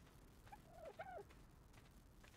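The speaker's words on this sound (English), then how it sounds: "Oh, hey, Mr. Dodo." A dodo bird in the video game Ark: Survival Evolved Extinction gives a few soft, warbling gobble-like calls, faint and somewhat distant, ending in a sudden loud thump.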